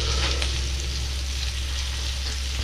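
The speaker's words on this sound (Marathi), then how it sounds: "इथे बघा आपले मटणाचे पीस जे आपले फ्राय व्हायचे आहेत, ते दोन्ही साईडने सर्वी साईडने आम्ही फ्राय करतो व्यवस्थित." Pieces of mutton fry in a pan with a loud, continuous close sizzle and crackle, unbroken and with no voices over it.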